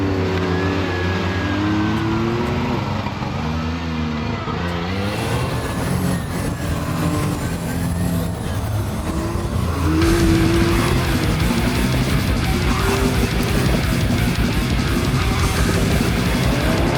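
A car engine revving and shifting as it drives hard laps on a race track, with tire squeal and rising, falling pitch, loud and continuous.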